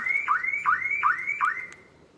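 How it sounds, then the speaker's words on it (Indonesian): Repeating electronic car alarm siren fitted to an old BMW E30, cycling through four rising-falling wails in quick succession, loud and close with no talk over it, fading out at the end. "Sirine alarm mobil."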